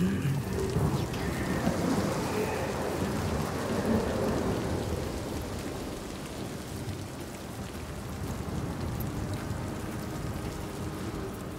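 A storm rumbles in the video game Hellblade 2, with steady, dense rain pattering on surfaces and deep thunder rolling beneath it, loudest at first and easing slightly, with no voices heard.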